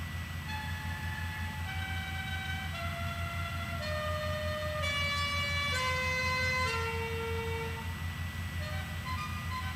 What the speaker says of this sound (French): Ils ont mis des nouveaux klaxons.